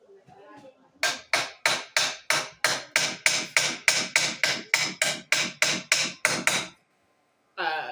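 Hammer blows on freshly welded metal, about eighteen sharp, evenly paced metallic strikes close to the microphone, then a pause and a final hit.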